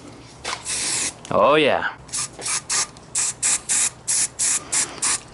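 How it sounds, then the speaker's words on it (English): Hairspray sprayed as a lubricant during a Kawasaki KLR 650 rebuild: a run of short, even aerosol hisses, close and fairly loud, following a longer spray and a brief spoken exclamation. "So hairspray is like a lubricant in the beginning, and then it gets sticky."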